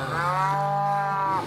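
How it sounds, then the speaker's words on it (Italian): A herd of cows in an animated Zorro cartoon lets out one long, low, drawn-out moo, close and steady from start to finish. "una mandria di mucche!"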